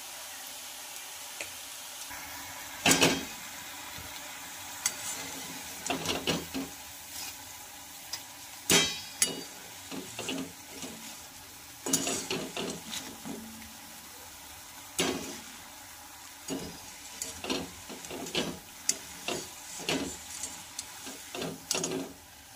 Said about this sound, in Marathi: अशाच प्रकारे आपण सगळे भजी तळून घेऊया।